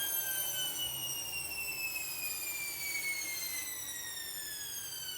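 Hoover H-Wash 300 Lite washing machine spinning up toward 600 RPM in service mode, a steady whine climbing slowly in pitch over a constant motor hum, close and alone.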